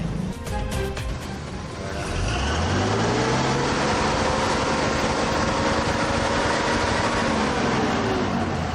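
Worn vehicle engine with a burst silencer and faulty head, revved hard on a smoggy Lahore street, rising from a rough idle into a loud, sustained roar that swells and holds, close by with traffic noise around.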